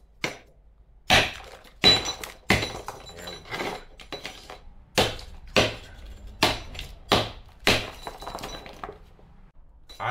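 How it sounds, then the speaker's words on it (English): Roasted quartz chunks being broken into pieces smaller than an inch for a ball mill, struck in a metal pan: a dozen or more sharp, loud knocks and cracks at uneven intervals, each with a brief gritty clatter, with no talking. "I need to break up all of the larger pieces so that they're smaller than 1 inch"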